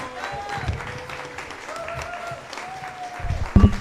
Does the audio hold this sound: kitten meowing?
no